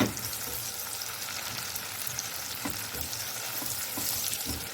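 Steady sizzling and crackling of onions frying in a hot pan, with occasional stirring scrapes, heard up close with no talking.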